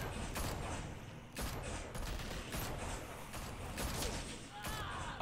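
Video game gunfire from The Walking Dead: Michonne sounds as a string of sharp, repeated shots at moderate distance over a busy, noisy game soundscape.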